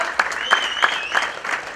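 A crowd claps as dignitaries are welcomed onto a stage, giving a continuous wash of applause with periodic louder bursts roughly every third of a second and a faint high tone above it.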